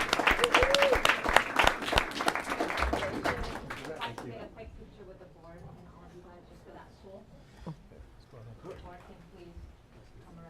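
Audience applause for high school award winners at a school board meeting, a burst of crowd clapping for about four seconds that quickly fades, followed by quiet room murmur and faint voices.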